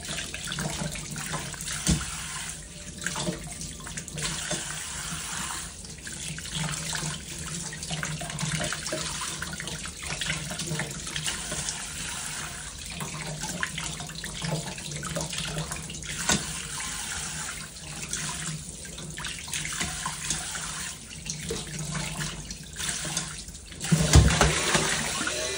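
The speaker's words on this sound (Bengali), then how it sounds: "তো এভাবে আমি ধুয়ে নিচ্ছি।" Tap water runs steadily and fairly loud into a sink as raw shrimp are rinsed one at a time, the splashing shifting slightly as each is washed, with no talking.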